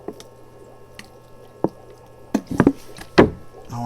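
Water poured onto bonsai soil around a crape myrtle trunk soaks in with soft squishing and dripping sounds, several close irregular wet bursts clustering toward the end.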